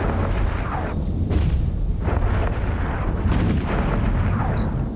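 A ship blows up in the EVE Echoes space video game, giving a sustained rumbling roar of explosions with repeated heavy bursts and booming crackle, loud and continuous throughout.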